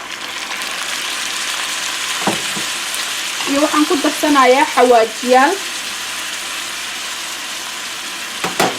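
Meat sizzles in a pan with chopped tomatoes for a pasta sauce. A steady, loud frying hiss runs throughout, and a person speaks briefly over it in the middle.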